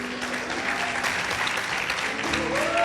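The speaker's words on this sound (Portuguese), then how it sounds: "Vamos, salve de palmas pro rei" Church congregation applauding together, a steady wash of clapping hands that fills the room evenly for the whole stretch, with a faint held organ or keyboard tone underneath.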